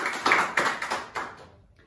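A few scattered claps for a student in a biology quiz class, about four separate sharp hand claps spaced irregularly, fairly quiet and fading at the end.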